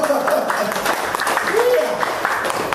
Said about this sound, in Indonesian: Coba tepuk tangan loh.